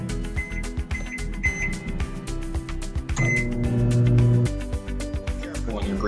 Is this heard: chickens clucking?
no